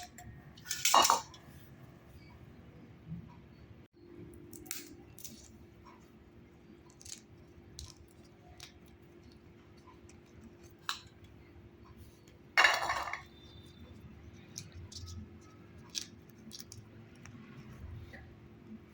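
Shelled green peas drop into a kitchen bowl: quiet, scattered light clicks and clinks, with a couple of sharper clatters standing out against a low room hush.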